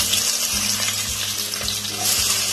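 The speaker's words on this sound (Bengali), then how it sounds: "এবার দিয়ে দিচ্ছি আলুর টুকরোগুলো" Pieces of a medium potato drop into hot oil and fry with a loud, close, gushing sizzle that holds steady throughout, with a low rumble underneath.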